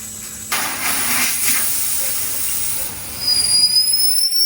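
An old-fashioned kettle boils, a rushing hiss of steam rising into a thin, high, wavering whistle toward the end, heard close and alone.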